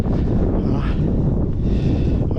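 Wind gusts across the microphone on a mountain belvedere, a steady loud rumbling buffet with breathy swells filling the whole moment, no voices.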